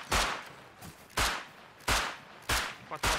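Gunfire in the survival game Rust: five sharp, loud shots spaced roughly every half second to second, each with a short booming tail.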